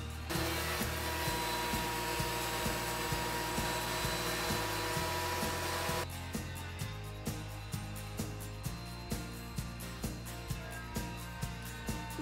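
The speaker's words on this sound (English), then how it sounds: "I'm going to run it through the planer." A planer runs cherry wood glued to an MDF backing for a countertop. A steady motor roar carries regular rhythmic thumps, and it shifts partway through to a lighter drone with sharp repeating ticks.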